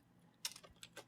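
Keys on a computer keyboard are tapped in a short burst while a menu name is typed, a few quick, light clicks close by with pauses between them.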